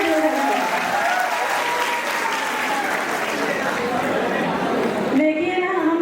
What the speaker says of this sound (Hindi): एक बार जोरदार तालियां बजा के बताइए